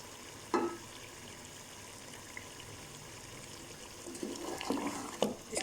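Beef nihari masala fries and bhunes in a pot with a low, continuous sizzle. Faint stirring scrapes grow somewhat louder toward the end, and no one speaks.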